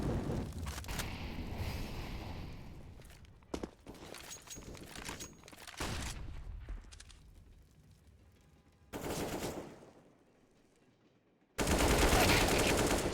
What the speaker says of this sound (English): Shots out.